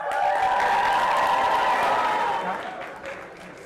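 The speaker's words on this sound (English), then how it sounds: "the students of which are now going to give a massive round of applause" A crowd gives sustained, dense applause, steady and full at first, then gradually thinning out toward the end.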